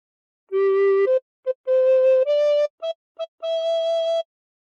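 Recorder plays the opening phrase of O Christmas Tree, a clear breathy tone moving through a short melody of sustained and brief separated notes, solo and close with no other sound.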